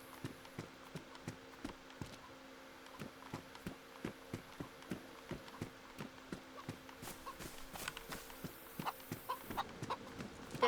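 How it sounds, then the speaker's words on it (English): In the DayZ survival game, a chicken clucks softly amid a steady run of hoof-like or footstep clip-clops, with rhythmic thuds every half second or so, quiet and close. "There's a chicken right there."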